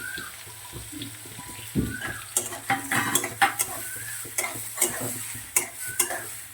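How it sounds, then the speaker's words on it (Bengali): Rice grains stirred into hot ghee left from frying cashews and raisins: a soft steady sizzle broken by repeated scraping stirs and light pan clinks, close by, with no talking. "এবার এই কাজু কিশমিশ যে ভাজলাম, যে ঘিটা রয়েছে তার মধ্যে আমি এই চালগুলো দিয়ে দেবো।"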